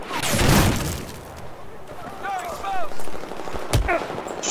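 An MTAR rifle fitted with a muzzle brake fires in Battlefield 4, with rapid gunshot bursts early on and a later shot, mixed with game sound effects and voices of players talking.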